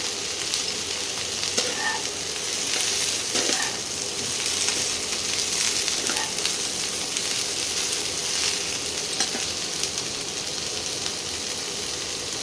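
A pan of cauliflower and potatoes sizzles steadily in spice-tempered oil, a close, continuous hiss broken every few seconds by soft scraping strokes of a spatula stirring the pieces.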